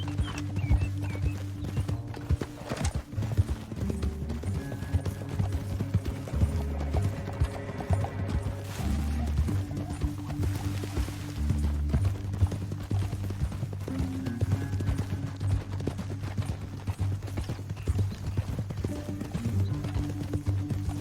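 Horse hooves clip-clop in a steady galloping rhythm throughout Red Dead Redemption 2 gameplay, with occasional whinnies over a continuous musical drone.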